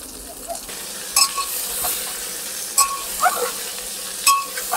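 Chopped bottle gourd and other vegetables frying for sambhar, a steady close sizzle broken by several sharp clinks of a spoon stirring against the pan, with no speech.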